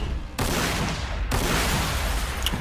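Gunfire bursts out in the strategy game Warhammer 40,000 Sanctus Reach, a dense loud fusillade that starts abruptly, cuts briefly, then resumes as sustained rattling volleys.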